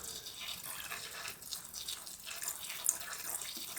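Water pours and trickles steadily as a tarantula enclosure's substrate is soaked during a rehouse, a faint, continuous splashing flow with a few small drips.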